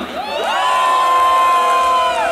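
A live rap concert crowd lets out a loud, sustained roar of shouts and cheers at the performer's call, a single swell lasting about two seconds.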